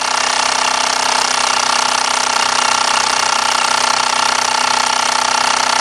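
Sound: Mamod SE2 toy steam engine running at full throttle

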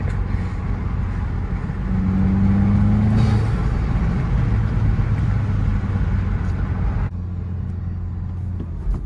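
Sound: Volkswagen MK7 GTI intake noise while driving

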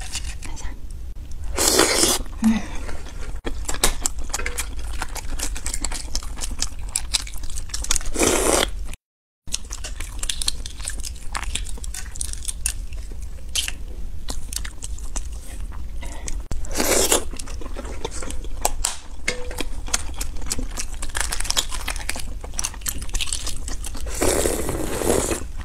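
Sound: eating live beads (balut), original flavor

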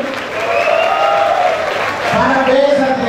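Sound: audience applause

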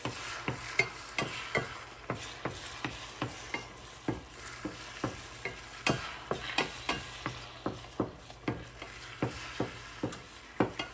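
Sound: scrambling eggs in a hot skillet

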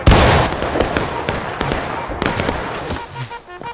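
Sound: musket volley fired by a line of soldiers in video game War of Rights

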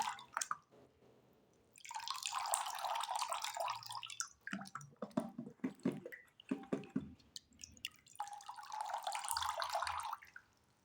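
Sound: Brita filter pulled out of water, dripping

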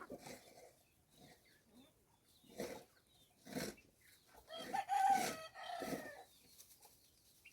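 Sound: chickens clucking and crowing

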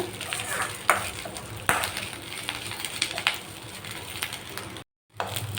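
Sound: curry leaves sautéed in sesame oil

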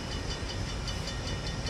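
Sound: train approaching at depot

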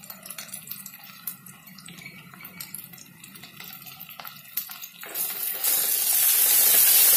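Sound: fenugreek seeds frying in oil for kuzhambu

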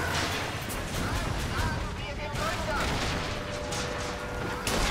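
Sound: gunfire shooting at cannon in video game Bioshock Infinite

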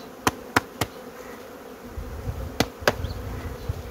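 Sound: honey bees buzzing while shaken off a hive frame

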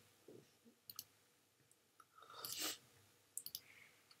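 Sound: computer mouse clicking in Photoshop

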